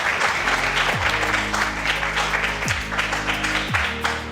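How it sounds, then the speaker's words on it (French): Backstage at a young leaders awards ceremony, an audience claps in a continuous, steady patter of applause, with low tonal sounds underneath. "on encourage fortement Valérine à travers des applaudissements bien nourris ici dans les coulisses"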